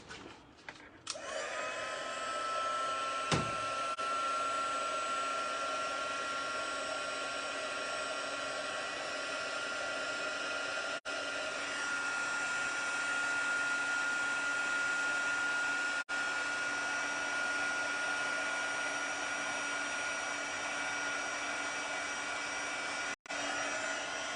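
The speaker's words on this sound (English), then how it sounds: "let me grab my heat tool" An embossing heat gun runs continuously to melt embossing powder on a stamped papercraft card, a steady close whirring blower drone with a high whine that holds for about twenty seconds, broken only by a few brief clicks.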